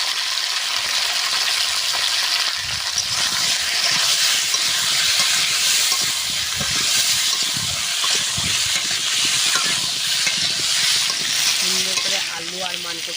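Chunks of home-grown giant taro (mankochu) and potato sizzle loudly in a pan. A continuous hissing fry is broken by occasional stirring scrapes, with no talk over it.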